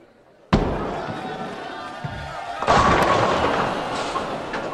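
A bowling ball strikes the pins in the PBA Pro Bowling video game: a sharp initial crack, then a louder clattering crash of pins two seconds later, with a faint crowd beneath.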